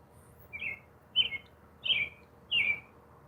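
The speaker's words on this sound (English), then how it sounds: "there's a bird. I don't know what it is. It sounds like a woodpecker, kind of." An unidentified bird calling outdoors at dawn, four short, bright chirps spaced about half a second apart, fairly distant and faint against quiet background hiss.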